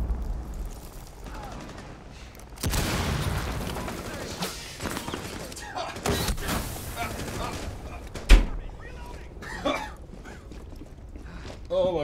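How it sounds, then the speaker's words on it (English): Frag grenade blast and bursts of gunfire in Rainbow Six Siege, with a sharp loud impact amid clattering shots and mechanical noise while players talk over it. "Frag grenade out."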